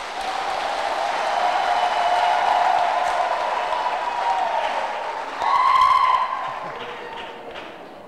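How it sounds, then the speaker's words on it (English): A congregation in a cathedral applauds at a priestly silver jubilee celebration, a steady wash of clapping that swells, holds for several seconds, then fades. "Let us give them a clap"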